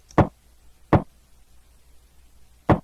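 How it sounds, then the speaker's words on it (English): Three low, punchy knocks from a pitched-down kick drum made from a game sound, two close together and a third after a longer gap, each short and dry against near silence. "Let's pitch down the kick and it sounds like this."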